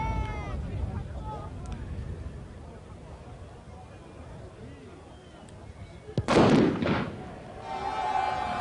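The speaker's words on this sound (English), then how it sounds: "Firework went off simultaneously" A single firework bursts with a loud, sharp crack amid crowd noise at a 1991 rugby league match between AS Carcassonne and Catalan, heard once in the latter part under a stadium murmur.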